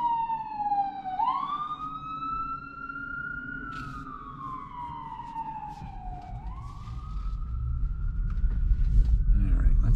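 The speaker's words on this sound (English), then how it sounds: "There's an ambulance coming or something coming." An ambulance siren sweeps up and down in long, rising and falling tones, loud and close, over the rumble of traffic.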